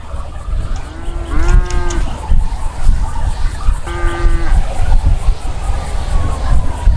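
A nearby cow gives two distinct low moos a couple of seconds apart, over a background of crowd chatter and voices.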